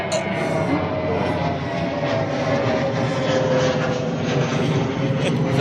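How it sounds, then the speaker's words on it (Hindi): An airplane drones overhead in a continuous, steady roar that stays loud and broad for several seconds without fading, heard outdoors with no speech over it. "अभी हवाई जहाज वाला आ गया"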